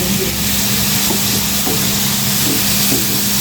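Beef and tomato fry in a pan with a steady loud sizzle and hiss, occasional light taps of stirring breaking through the constant crackle.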